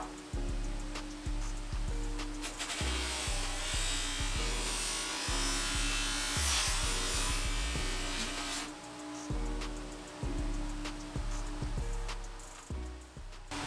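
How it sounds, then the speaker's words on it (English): Motorized polishing wheel buffing rust off a two-stroke exhaust pipe from an RM250 motorcycle, a steady close buzzing whine with rhythmic dips and surges as the pipe is pressed against it, no speech. "you can actually clean that up with the polishing wheel as well"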